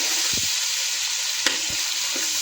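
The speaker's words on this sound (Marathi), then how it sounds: "आता आपण छान ही तेलामध्ये व्यवस्थित परतून घेऊया।" Ginger-garlic paste, about 100 grams, frying in oil over medium heat for chicken liver masala; a steady broad sizzle with a few soft stirring knocks, close and continuous.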